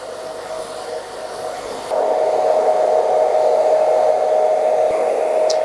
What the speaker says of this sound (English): And then we're drying it into a nice shape sitting back.